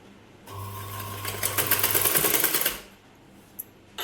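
Sewing machine stitching piping onto a blouse, one steady run of about two seconds with whirring that quickens and rattles before stopping, followed by quiet.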